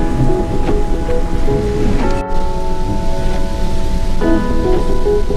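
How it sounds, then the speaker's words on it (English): Heavy rain pours in a dense, loud wash, with a low rumble of thunder from the storm underneath and a few sharp knocks. "the heavy rain started, here comes the storm"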